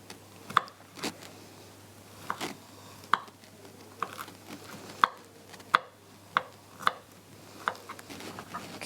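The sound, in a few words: knife finely chopping garlic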